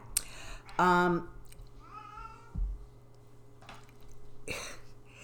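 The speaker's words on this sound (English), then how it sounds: "Hey, kitty cat." A house cat lets out one loud, drawn-out meow near the microphone, then a few fainter chirping sounds follow in a quiet room.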